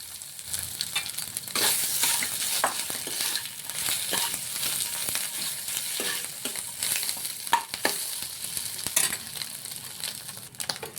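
Mashed cauliflower is stirred into a pan of fried ginger and green chili, sizzling and crackling steadily close up, with repeated sharp scrapes and clicks of the spoon against the pan throughout.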